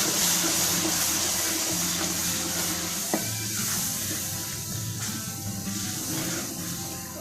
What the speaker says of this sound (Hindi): और अब इसको अच्छे से मिक्स कर लें।